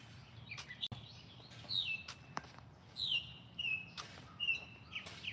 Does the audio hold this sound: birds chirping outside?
yes